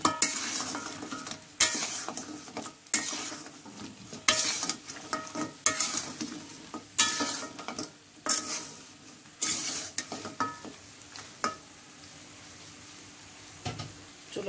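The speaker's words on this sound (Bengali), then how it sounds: "ভালো নাড়তে হবে।" A spoon scrapes and stirs coconut filling for puli pitha in a pan, with repeated knocks and scrapes at an irregular rhythm over a faint sizzle, fairly quiet and up close, with no talk.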